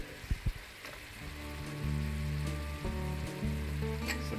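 Celery hits hot bacon fat with browned meat and starts sautéing: a couple of quick pops, then a steady, moderately quiet sizzle that holds to the end, with no voices.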